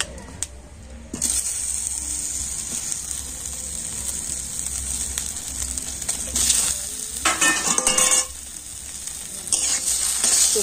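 Snacks frying in a wok with a dash of ground black pepper are stirred, producing a continuous close sizzle broken by louder scraping bursts from the spatula, with no talking.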